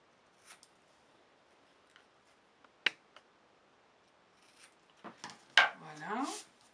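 Paper triangle being cut out with scissors for a snowman candy box craft: a few sparse snips and small handling noises, then a louder burst of crisp cuts and rustling near the end, close and with no talk.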